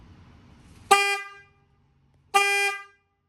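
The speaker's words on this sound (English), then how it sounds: "All right, stock horn." Stock horn on a Ford Fiesta ST honked twice, close and clear, each a short bright blare of under half a second, roughly a second and a half apart, over quiet surroundings.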